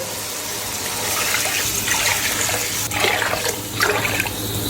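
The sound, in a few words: water poured into cooking pot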